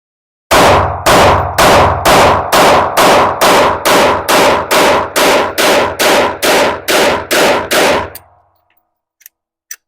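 A Beretta APX pistol fires Tula ammunition in a rapid string of about fifteen loud, evenly spaced shots over eight seconds, followed by a brief quiet and a couple of faint clicks.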